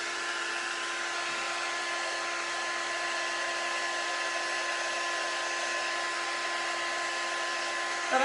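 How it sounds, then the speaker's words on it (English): Continuous loud whirring of a blow dryer drying paint close by, unbroken and even for the whole stretch. "Probably needed to get the blow dryer."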